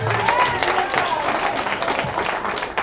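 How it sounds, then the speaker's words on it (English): Congregation at a holy convocation claps for a visiting family, a moderate wash of applause with a murmur of voices mixed in. "Give him and his family a round of applause."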